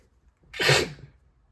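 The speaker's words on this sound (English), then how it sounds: "that sneeze came out of nowhere" A single sharp sneeze bursts out close by, loud and brief, in an otherwise quiet space.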